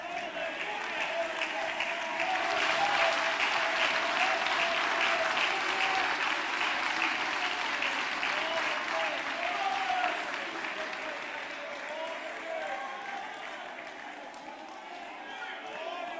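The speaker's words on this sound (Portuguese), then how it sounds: "Você pode aplaudir a Jesus?" Sustained applause from a large church congregation, dense clapping that swells early then gradually fades, with voices mixed in beneath.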